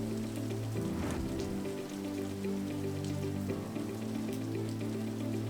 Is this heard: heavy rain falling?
yes